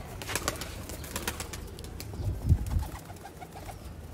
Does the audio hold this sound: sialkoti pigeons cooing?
yes